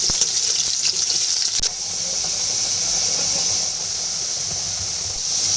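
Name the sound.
potatoes frying in a pan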